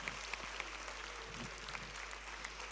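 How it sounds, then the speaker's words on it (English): Audience applause at a young minds programme session in Thiruvananthapuram: faint, steady clapping from a room of listeners with scattered sharper claps standing out, heard at a distance and low in level throughout. "Clap again."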